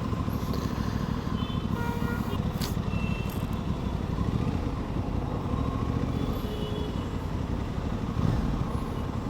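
Aprilia motorcycle threading through a rain-soaked traffic jam in Andheri, with a steady, dense low rumble of engines and road noise all around and a few faint horn-like tones, no clear speech.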